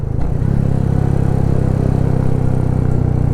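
A motorcycle engine running after a downshift on a mountain road, with a loud, close, steady low throb and a fast rhythmic pulse throughout, slightly rough and clattery.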